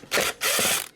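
A screwdriver backs transistor screws out of an RM Italy KL506 amplifier, giving two short, close ratcheting bursts separated by a brief pause.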